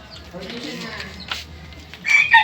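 A chicken clucks and squawks close by near the end, over low background noise and murmuring.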